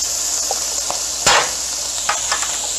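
Smokey chicken sizzles in a pan with a steady bright hiss, broken by a few scraping stirs and one louder clatter, close and alone without talk.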